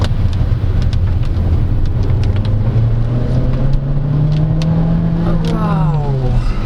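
Engine of a 2023 Changan CS35 Plus Luxe crossover accelerating in manual mode, a loud sustained drone rising steadily in pitch, then gear changes near the end, heard from inside the cabin with constant road and wind noise.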